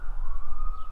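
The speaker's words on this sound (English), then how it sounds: "that siren has been going for a hot minute" A siren wails steadily outside, a sustained tone heard alone over low rumbling background.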